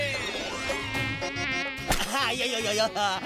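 A mosquito in an animated cartoon makes a high, wavering whine that swoops up and down, steady and close throughout, with a cartoon sound effect mixed in.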